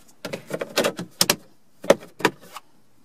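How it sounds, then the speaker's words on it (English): Plastic grille on a Ford Taurus dashboard pressed back into its clips, giving a run of sharp close snaps and clacks, a dense cluster early on, then two or three separate loud clicks. "And we'll snap this grill back in place."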